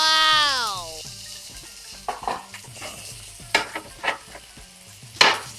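Onion fries in oil in a pan with a soft sizzle, broken by several distinct stirring scrapes and clatters; a sliding tonal squeal opens, with no clear talk.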